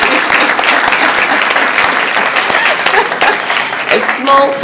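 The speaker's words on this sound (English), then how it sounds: "So let's give a round of applause to him." Loud, dense applause from an audience fills the hall throughout at a university industry-institute inauguration event, with steady clapping and no pauses.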